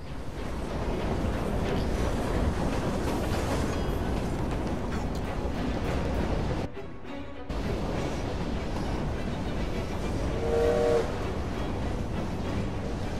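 A steam-era freight train in Assassin's Creed Syndicate, set in Victorian London, pulling cargo as a dense continuous rumble and rattle with a short dropout, then a brief horn-like tone near the end.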